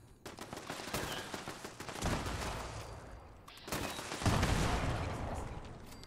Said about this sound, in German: Das knallt ja hier nur noch mit Granatenwerfer und Distanzfeuerwerk.